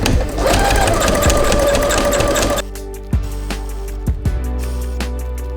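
A sewing machine stitches DIY epaulets in a loud, steady, rapid run that stops partway through, followed by a few isolated mechanical clunks.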